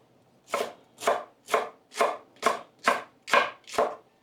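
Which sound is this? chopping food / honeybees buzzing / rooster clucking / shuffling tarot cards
chopping food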